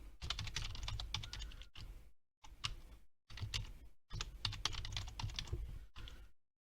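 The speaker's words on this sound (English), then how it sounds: "let's type again." Typing on a computer keyboard while setting up a login password during a software installation: dense bursts of close key clicks in several runs, separated by short silent pauses, with no voices.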